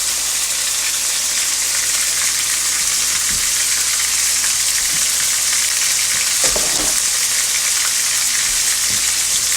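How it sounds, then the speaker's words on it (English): Chopped onions and green peppers fry in a pan on a stove, giving a steady, loud sizzle throughout with a few soft stirring knocks and clinks, no talking. "I'm gonna add some of these onions. These green peppers."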